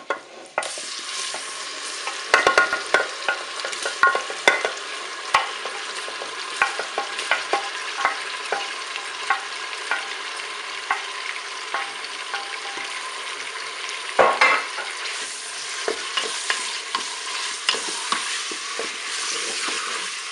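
Slices of duck breast sear in a Cookeo multicooker pot, a loud continuous sizzle and crackle with sharp pops and scraping stir sounds throughout, no voices.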